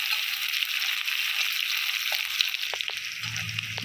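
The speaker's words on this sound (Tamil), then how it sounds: "இந்த பெரிய வெங்காயம் நல்லா கோல்டன் ப்ரௌனிஷாக வர வரைக்கும் நல்லா" Large onions sautéing in a pan until golden brown for a country chicken fry, a steady bright sizzle with a few soft stirring knocks near the end.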